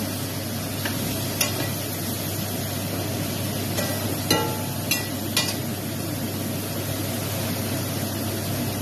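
Sautéed pork and bottle gourd being stirred in a pan, a steady sizzle of frying with occasional sharp scrapes and clinks of the utensil against the pan; no talk.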